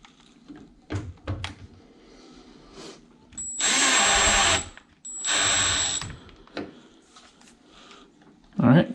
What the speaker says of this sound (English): Tighten it down, but not too tight. You don't want to strip the screw out.